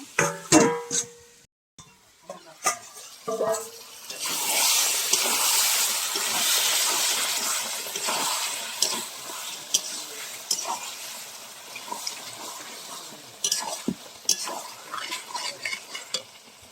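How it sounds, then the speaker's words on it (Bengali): Goat meat and spices stirred and fried in a pan: a few clinks at first, then a sustained loud sizzle with scraping strokes of the spoon continuing to the end. "মশলার সঙ্গে ভালো করে নেড়ে ভালো করে কষিয়ে নেব"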